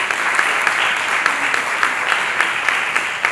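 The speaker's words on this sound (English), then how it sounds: "Could we all give a round of applause to Nima?" Audience applause for keynote speaker Nima Elbagir, dense steady clapping from a crowd, fairly close and loud, with a few sharper individual claps standing out.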